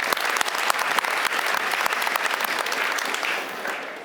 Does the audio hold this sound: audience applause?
yes